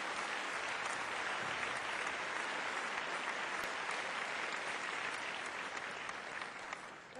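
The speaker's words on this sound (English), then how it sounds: "Huge round of applause for Kavita." A large audience at a regional business awards ceremony applauds in a broad, steady wash of clapping that holds at a loud, even level from start to finish, thinning only slightly at the very end.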